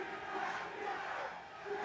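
Spectators at a Valorant Masters esports event cheer and roar loudly in a continuous wash of crowd noise that rises and falls slightly.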